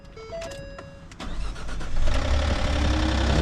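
A Ford car's starter cranks briefly with some clicks before the engine catches and roars up to a loud, steady idle, all within a few seconds and close by.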